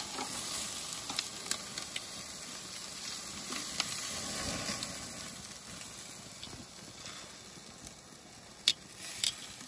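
Meat cooks on a BBQ smoker with a soft, steady sizzle and hiss, faint and continuous, broken by a few small pops and ticks.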